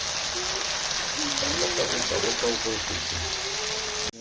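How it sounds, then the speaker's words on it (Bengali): Okra frying in hot oil, a steady close sizzle and hiss with a bright crackling wash, while a voice talks over it throughout. "আর ঢ্যাঁড়সগুলো ভাজা চলছে"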